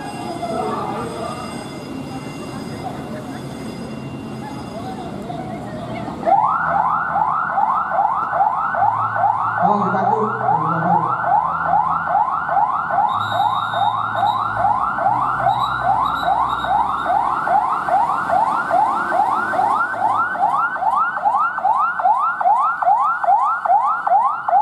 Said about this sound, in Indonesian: mobil pemadam kebakaran Kota Cirebon untuk datang ke tempat kejadian kebakaran